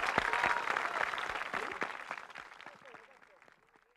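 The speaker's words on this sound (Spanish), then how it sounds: "Un aplauso grande." Applause at a ski federation award ceremony in Chile, a crowd clapping loudly at first, then thinning into scattered individual claps that fade out, with voices mixed in underneath.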